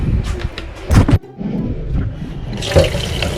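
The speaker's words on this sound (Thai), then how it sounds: "น้ำใส่กระป๋องอันนี้สมัยสำหรับล้างเหยื่อนะ" Water is poured into a can meant for washing fishing bait, heard as close splashing and gurgling bursts, a brief pause, then a softer hissy trickle of running water.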